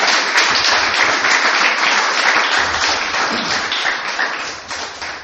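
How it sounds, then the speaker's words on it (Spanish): A church congregation breaks into loud, sustained applause, dense clapping from many hands that fills the room and tapers slightly toward the end. "¿Por qué no le damos un aplauso a Jesucristo, el Señor?"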